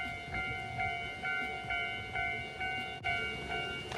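Ichibata Electric Railway train at Nunozaki Station beside Lake Shinji, a steady rumble with rhythmic periodic clatter and sustained tonal hum, moderately close and alone.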